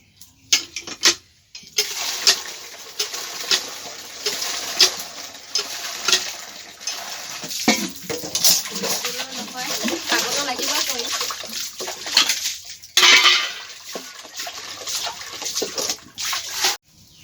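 Plates, bowls and cooking utensils are washed under running water, a continuous splashing rush punctuated by clatters and knocks of dishware, close by, with a person talking intermittently.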